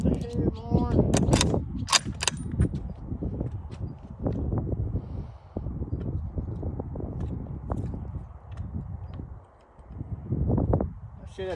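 Rifle shots fired while sighting in hunting rifles on a range before Arkansas deer season, several sharp loud reports spaced seconds apart, with people talking between the shots.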